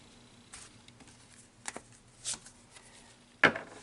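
Tarot cards are shuffled by hand close up, with a few soft riffling swishes, then a sharper snap near the end. It is quiet, with no talk.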